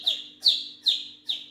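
A small bird gives four sharp, bright chirps evenly spaced about half a second apart, close and clear against a quiet background.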